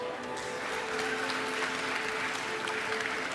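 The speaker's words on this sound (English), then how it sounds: "So can I get a huge round of applause for Mr." An audience on a game stage at MCM London Comic Con claps in a sustained wash of applause, heard from some distance and fairly quiet.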